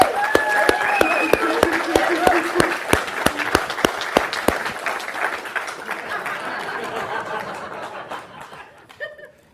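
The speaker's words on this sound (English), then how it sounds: "Can we give him a good round of applause?" A live debate audience claps in a round of applause with scattered chuckles and chatter, sharp hand claps ringing out at first then thinning and fading toward the end.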